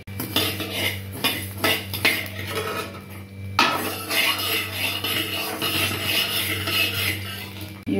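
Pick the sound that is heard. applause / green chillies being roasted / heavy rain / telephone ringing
green chillies being roasted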